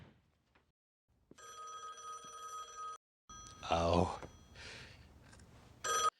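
A telephone bell rings in a TV show, one sustained ring of about a second and a half, followed by someone speaking briefly.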